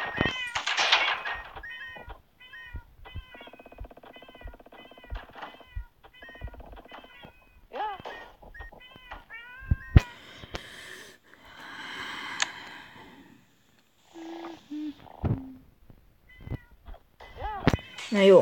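A cat in a video game meows again and again with wheezy, snorting and caterwauling calls, alone and close, in irregular bursts across the stretch.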